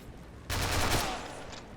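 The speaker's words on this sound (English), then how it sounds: "This machine gunner is just so deadly." A machine gun fires in a video game battle on Tarawa Atoll, a short loud burst that starts suddenly and then fades into a ringing tail.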